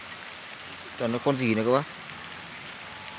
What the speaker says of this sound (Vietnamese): Trời đang mưa rồi các bác nhìn ra ngoài đây.